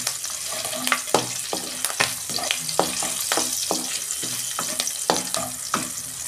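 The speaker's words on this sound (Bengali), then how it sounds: "আদা আর কাঁচা লঙ্কা দিয়ে দিচ্ছি।" Chopped ginger and green chili sizzling in hot oil with fennel seeds over a low gas flame, a bright crackling fry punctuated by repeated sharp scrapes of a spatula against the pan, close and steady.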